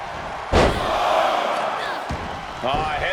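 A moonsault slam in the WWE 2K26 wrestling game lands with a loud, sharp impact on the mat, followed by crowd roar, another thud and a shorter slam later.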